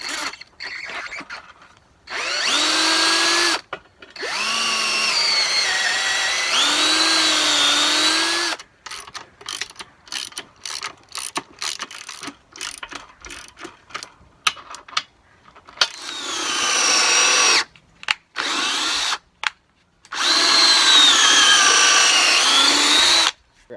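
DeWalt power drill driving lag bolts into a winch skid plate, loud repeated bursts of motor whine rising and falling in pitch, separated by short pauses, close up with no talk.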